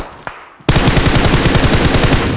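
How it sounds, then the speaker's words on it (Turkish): Rapid automatic gunfire in the mobile shooter PUBG Mobile, a loud close burst of evenly spaced shots that begins suddenly after a short quieter moment and continues without pause. "Soldaki sıkıyor"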